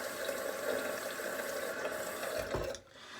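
Water runs and splashes at a sink as a face is wetted, a soft continuous trickle with a sharper splash near the end before it quiets, no voices.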